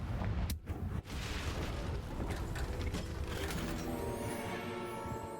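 A Confringo fire spell blasts in Hogwarts Legacy as a loud, close, sustained explosive roar that rumbles on for several seconds without fading.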